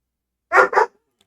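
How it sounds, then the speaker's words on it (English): Dogs in a back room sound off with two quick, loud barks in close succession while play fighting, then fall silent. "sorry, my dogs are fighting"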